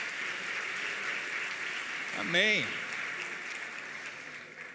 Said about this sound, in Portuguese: você pode dar uma salva de palmas para essa turma com a mão levantada aí, parabéns.